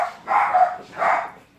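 Dogs bark in a garden at a returning man, two loud, close, sustained barks separated by a short pause, with no talking.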